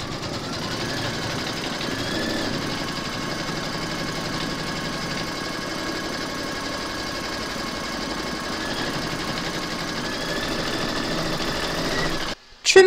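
An embroidery machine stitches an appliqué flamingo outline in a steady, even mechanical whir of rapid needle strokes, continuing alone before cutting off abruptly near the end.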